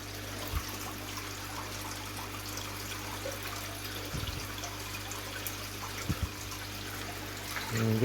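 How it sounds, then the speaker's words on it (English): Jacod Eco Air Pump, 20 watt, bubbling in a fish tank: a faint continuous watery trickle and fizz with a low steady hum and a few soft knocks, quiet and close. "I turn my pump back on a minute because they like the old bubbles."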